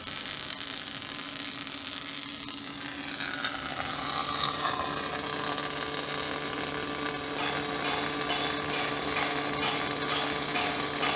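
Automatic robotic welder running on a rotisserie turntable, welding a snowplow part: a steady mechanical whir and hiss with faint humming tones, continuous and fairly close for the whole stretch.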